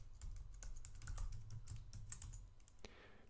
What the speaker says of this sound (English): It'll ask you for your password. You You put that in, hopefully type it right.